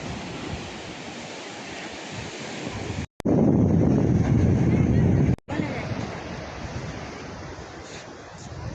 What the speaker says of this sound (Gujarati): બહુ ખતરનાક વીળું આવે છે